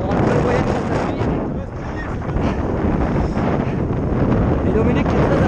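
Strong wind buffets a microphone outdoors in a loud, continuous roaring rumble that dips briefly, then surges again, with no other sounds standing out.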